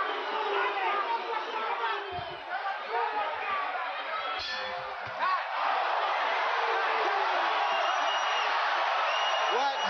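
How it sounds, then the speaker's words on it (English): Boxing arena crowd at a Mike Tyson heavyweight fight against James "Bonecrusher" Smith, 1987: a dense, sustained roar of voices that swells and holds steady throughout, with whoops and chatter in the mass and a brief voice near the middle. "And you hear the crowd start to boo"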